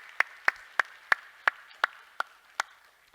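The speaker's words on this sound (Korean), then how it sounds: "박수로 한번 격려하겠습니다" Church congregation applauding together, eight sharp evenly spaced claps ringing out in a steady rhythm, moderately close and alone with no talk.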